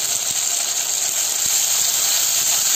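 Finely chopped tomato sizzles steadily as it sautés in a hot pan for a broccoli pepper fry, a bright continuous hiss with a couple of faint clicks and no talking.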